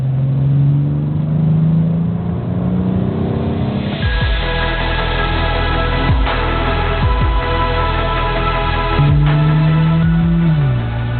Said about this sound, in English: put it not just in Sport, but in Sport Plus, and then the engine starts to really sing.